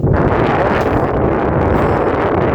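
Wind gusts buffet a microphone outdoors under a clear sky, producing a loud, steady low rumble throughout with no clear breaks.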